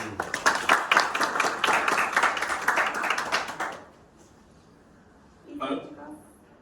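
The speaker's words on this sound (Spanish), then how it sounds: "Un aplauso por favor." Applause from the audience at a web developers meetup, lively clapping for about four seconds that stops abruptly, followed by quiet and then a brief voice.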